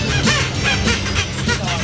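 Kids on an amphibious duck tour in Austin, Texas, imitate duck quacks, a repeated rhythmic honking chorus of voices over music and engine noise, loud and close.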